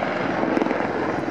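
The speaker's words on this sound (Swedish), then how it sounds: "Den anses vara en av de bästa helikopterna som finns." Mi-24 Hind attack helicopter flying at Linköping, a loud, dense rotor and engine roar that is steady and close for a brief moment.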